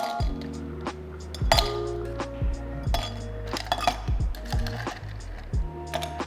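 Ice cubes dropped and clinking into a glass for a brown sugar salted caramel latte, a string of sharp, close ringing clinks and knocks at an irregular rhythm.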